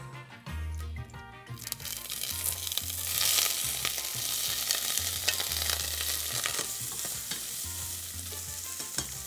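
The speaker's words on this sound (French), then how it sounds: "On va commencer à faire revenir le boucanet dans un peu d'huile." Smoked bacon lardons fry in a little oil in a pan for oeufs en meurette, a steady close sizzle broken by scraping stirs and a low hum, with no talk.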